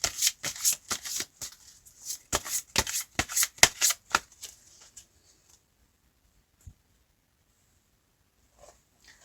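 A deck of tarot cards shuffled up close in a quick run of crisp flicking riffles for about four seconds, then near silence with a couple of faint taps.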